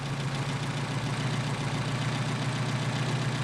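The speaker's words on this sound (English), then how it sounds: "There's our idle dropping off." A Mercedes 190SL engine idles steadily while its Solex 44PHH carburetors are adjusted, giving a constant low, even rumble, close and unbroken with no talk.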